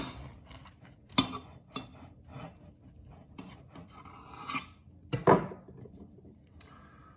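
A knife cuts into a sous-vide Juicy Lucy hamburger stuffed with cheese, giving soft rasping, rubbing strokes in a quiet kitchen, with a sharper scrape near the end.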